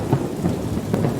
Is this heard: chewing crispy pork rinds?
no